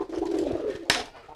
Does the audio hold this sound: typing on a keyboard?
no